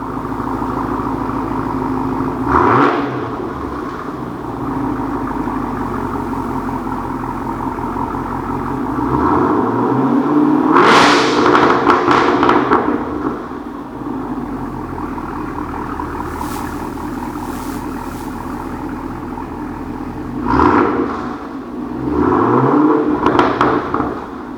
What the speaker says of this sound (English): Great sounding exhaust